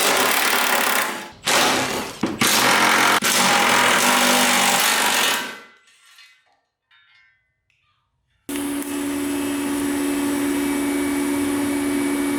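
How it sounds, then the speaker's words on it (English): Welding a brace onto a rear-wheel-drive, K-swapped Cefiro: loud, harsh buzzing crackle in several bursts for about five seconds, then a sudden cutoff to near silence, followed by a steady mechanical hum. No one talks. "tacked in, we can pull it out and weld it."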